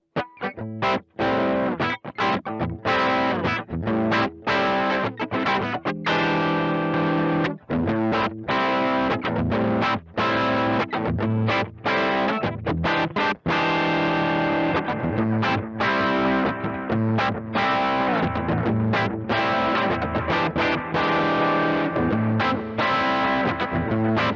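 Electric guitar played through a Sonicake Twiggy Blues overdrive pedal with compression, lush reverb and echoing delay, chords and notes ringing out continuously with no voices.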